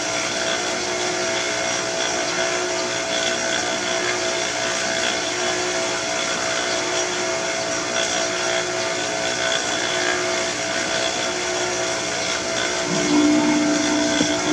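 A jet water pump at a site in Roxas, Isabela, runs with a steady, loud mechanical drone while being primed with its pipe blocked to build pressure, unbroken throughout and heard alone.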